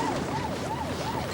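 A police car or ambulance siren wails in a steady rising-and-falling pattern, about three full sweeps, loud and continuous with no talk over it.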